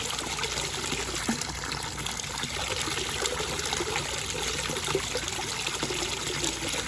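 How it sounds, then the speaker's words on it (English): Pool water pours from the end of a 100-foot black hose back into a backyard pool, a steady close trickle and splash that holds at an even level without a break. "all I'm doing is recycling pool water through 100 feet of black hose right back into the pool"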